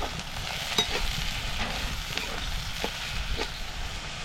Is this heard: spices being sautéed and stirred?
yes